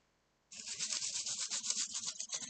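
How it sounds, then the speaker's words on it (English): Light sandpaper scuffing over an epoxy-coated marble desk tool, a soft, quick back-and-forth rubbing that begins abruptly and continues close and quiet. "I'm just going to lightly run over the whole thing with my sandpaper"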